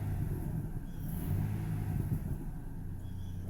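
A 2007 Ford F-150 engine running after startup and being revved: a steady low rumble that swells slightly mid-clip, close and continuous with no speech.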